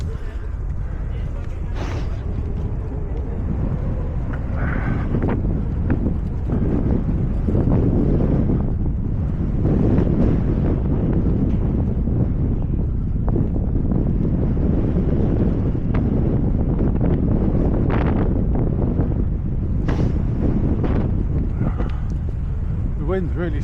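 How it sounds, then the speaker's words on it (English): Strong wind buffets the microphone steadily on a ride home toward Thurmaston and Syston, a dense continuous roar with gusty surges throughout, and a voice talks briefly over it. "The wind's really slowing us down."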